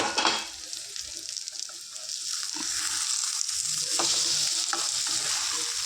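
Bitter gourd egg curry simmering in a covered pan: a steady, close sizzle and bubbling with a few soft clinks, no voices.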